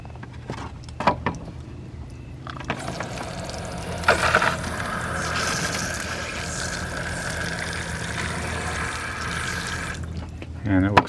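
Water mixed with pink antifreeze runs from a camper faucet during winterizing, a sustained splashing flow lasting several seconds after a few sharp knocks, ending with a short clatter.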